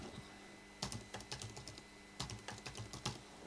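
A password typed on a computer keyboard during a headless Raspberry Pi setup: two quick bursts of close, crisp key clicks separated by a short pause, quiet room, no voices.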